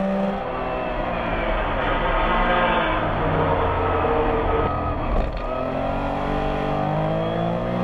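Porsche race cars, including 935s, accelerate uphill toward the top of the course at a Porsche Rennsport Reunion race, engines roaring loud and continuous with rising revs and passing cars throughout.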